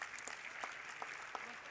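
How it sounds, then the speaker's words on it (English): Faint, thin audience applause at the Doha GOALS 2014 youth forum, with a few scattered distinct claps over a soft wash, heard at a distance. "Let's give her a round of applause, ladies and gentlemen."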